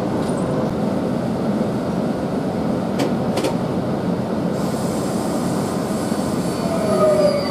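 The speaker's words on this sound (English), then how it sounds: "1519 service to Margate from London to Pancras International is just now departing." A train pulls out of Stratford International station bound for Margate, a steady close rumble of wheels and traction running throughout, with brief higher whines and a faint squeal toward the end.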